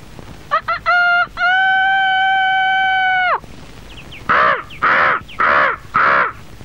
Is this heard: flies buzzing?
no